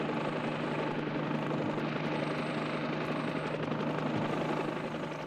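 A helicopter drones steadily overhead, its rotor chop a constant, fairly loud rumble across the whole clip with no voices.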